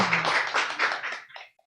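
Audience applause at a school celebration honoring a first-place city-level student skills competition winner in pharmacy, a dense burst of hand claps lasting over a second and fading out.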